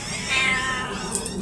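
A pet cat lets out a single whiny, drawn-out meow at breakfast time, close and fairly loud over soft room noise, with no talking.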